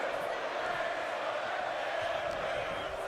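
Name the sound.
arena crowd cheering in the video game WWE 2K25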